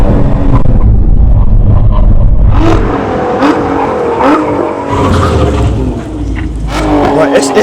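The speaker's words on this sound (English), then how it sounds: "It's the downshifts on that Lotus." A Lotus Emira sports car braking hard from about 100 mph in a drag race, with loud engine blips and rev changes as it downshifts through the gears, heard close over wind and road noise while someone talks over it.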